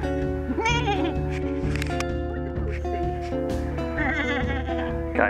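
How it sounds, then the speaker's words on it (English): Mountain goats bleat on an island hillside in several wavering calls, repeated and overlapping and fairly close, with a steady low rhythmic thumping beneath them. "mountain goat"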